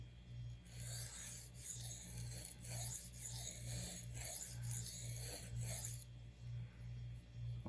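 Kitchen knife honed on a budget THLEITE splash waterstone, steady rhythmic rasping strokes back and forth, close and fairly loud, with no talking.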